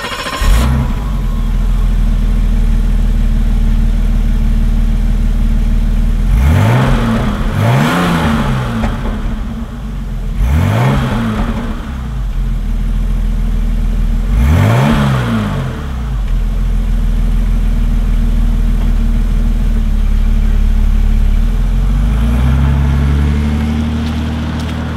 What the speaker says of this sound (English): Inline six-cylinder engine is the next thing that I just love about this car.